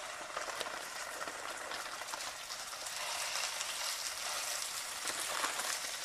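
Beef fillet cooking in a frying pan over the heat, a steady faint sizzle with soft bubbling that swells slightly partway through, no voices over it.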